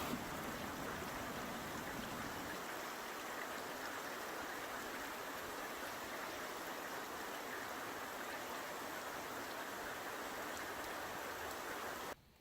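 Steady, dense rain pouring continuously on a farm as an even hiss, with no voices, until it cuts off abruptly at the end.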